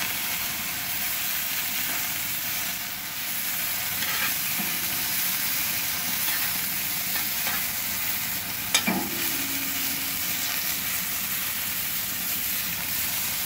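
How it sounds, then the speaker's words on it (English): Brussels sprouts sizzle in a skillet on an outdoor grill while being stirred, a constant loud hiss running throughout with occasional scraping strokes and one sharp clack near the end, with no talking. "I'm going to mix up these Brussels sprouts. Just to get nice and toasty."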